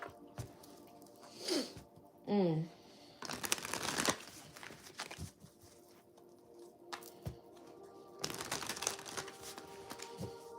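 Playing cards being shuffled close up in several separate bursts of riffling and flicking, with quiet pauses and light handling noises between.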